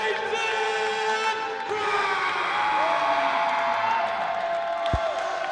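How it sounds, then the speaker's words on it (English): A wrestling arena crowd cheers steadily for champion Jayson Krash at a hardcore title match, a loud, continuous wash of voices that lasts the whole stretch, with a sustained tone over the top and a sharp thump near the end. "Listen to this crowd."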